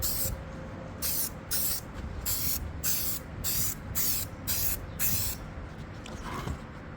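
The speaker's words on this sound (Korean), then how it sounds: "이 스프레이 낚아가지고 기교를 잘 뿌리면 이게 좀 작품처럼 만들어낼 수 있습니다." Spray paint being applied to a car head unit cover for a Hyundai Veracruz: about nine short, even hissing bursts in a steady rhythm, loud and close, with no talking.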